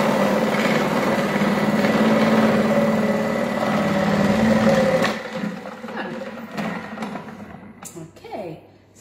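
A Thermomix with a cutter attachment runs on reverse at speed 4, slicing vegetables thin. A steady motor whir fills the first half, then fades to lighter clatter and handling noises near the end.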